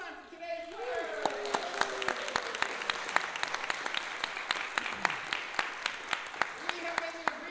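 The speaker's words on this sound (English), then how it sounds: "Let's have a round of applause one more time for today's winner." Applause from the crowd at a live improv comedy show, with sharp, distinct claps ringing over a steady wash of clapping and voices talking over it near the start and end.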